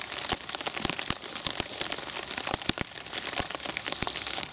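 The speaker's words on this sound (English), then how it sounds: "Oh, it's absolutely chucking it down now." Heavy rain hammers a tent pitched by a river in winter woods, a dense patter of close, sharp drops striking the fabric continuously, with no voices.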